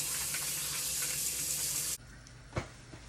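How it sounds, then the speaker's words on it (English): Water runs from a kitchen tap in a steady broadband hiss while three crabs are washed for a curry; the flow cuts off abruptly partway through, leaving a quieter room with a single soft knock. "wash my crab up"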